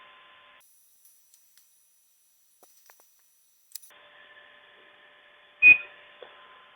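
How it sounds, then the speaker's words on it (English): A Cetus 3D printer beeping as extrusion starts, heard as a short bright electronic tone with a sharp click, standing out against near-silent surroundings and a faint hum. "So you hear a beep, that means it starts to extruding."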